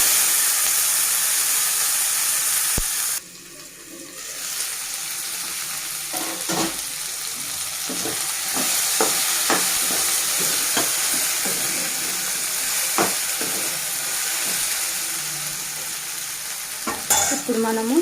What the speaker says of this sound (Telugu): ఇప్పుడు కట్ చేసి పెట్టుకున్న సొరకాయ ముక్కలను యాడ్ చేద్దాం